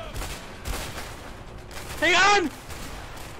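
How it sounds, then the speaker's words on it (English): Guards open fire in the prison-escape video game A Way Out, with rapid bursts of gunshots over a noisy scene while someone shouts. "They're shooting in the back!"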